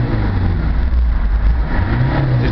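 A Ford Transit 280 van engine drones loudly and close, with a throaty low rumble that swells as it revs from a 900 RPM idle up to 3,500.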